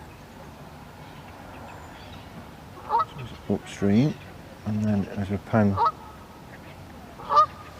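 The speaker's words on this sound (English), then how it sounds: "to my left, where all the ducks and the geese are." Geese honking near the River Trent below Trent Bridge, where ducks and geese gather on the bank; several loud, close honks come in short bursts while someone talks over the river ambience.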